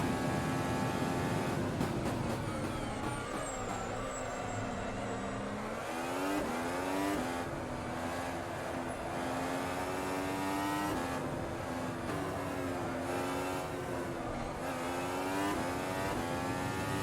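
A Formula 1 car in the racing sim Automobilista screams through a fast lap, its high engine note climbing and dropping through repeated upshifts and downshifts, loud and continuous throughout.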